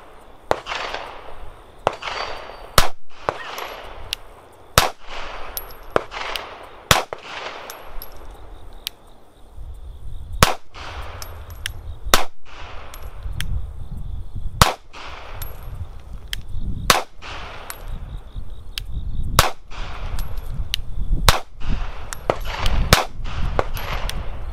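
Sharp pistol shots from a Sig Sauer P365 ring out at an outdoor range, fired in spaced groups at targets, loud and close, with a few fainter distant shots between them.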